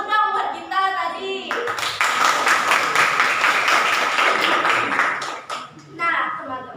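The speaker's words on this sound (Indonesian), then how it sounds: "Tepuk tangan dulu dong buat kita tadi." A group claps in a classroom-style presentation, a dense burst of applause rising after a voice and lasting several seconds before fading as speech returns.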